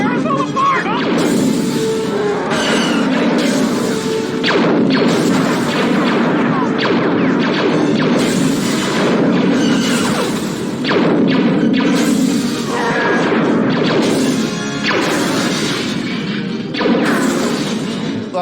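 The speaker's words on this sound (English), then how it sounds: "there's literally just 3 cameras that they shot getting blown up, and then they just looped it like 10 times" Film explosions of security cameras blown up in Star Wars burst repeatedly in a loud, dense series of booms and crashes, layered with blaster-like shots and dramatic score, close and intense throughout.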